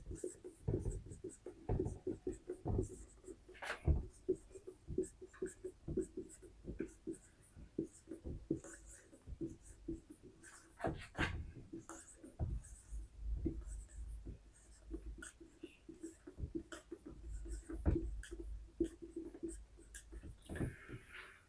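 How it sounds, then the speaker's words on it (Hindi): Pen or pencil writing out the English alphabet on paper: steady scratching and tapping strokes continue throughout, close and fairly quiet, with small pauses between letters. "सबसे पहले हम लोग इंग्लिश अल्फाबेट लिख देते हैं"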